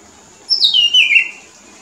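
A bird sings a single bright, high, sweeping phrase lasting under a second, close and clear against quiet surroundings during birdwatching in Caicedonia, Valle.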